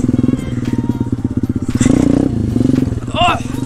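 A pit bike's small engine pulses loudly and rapidly during a wheelie attempt, its note rising and falling with throttle bursts, mixed with clattering and thumps and a voice talking over it.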